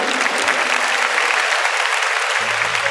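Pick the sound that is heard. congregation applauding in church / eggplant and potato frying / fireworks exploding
congregation applauding in church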